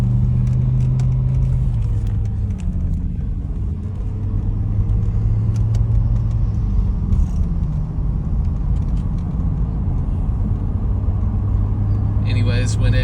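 A BMW M6 with the S85 V10 engine idles steadily during warm-up, a loud, constant low rumble with a slight shift in idle pitch near the start and a brief sharper noise at the end.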